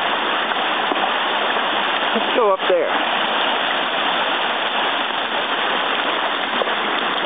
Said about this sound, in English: We got little bedrock waterfalls.